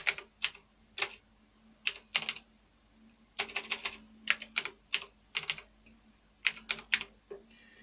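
Close keyboard typing in quick bursts of keystrokes separated by short pauses while text is entered in a Microsoft Word document, with no voices present.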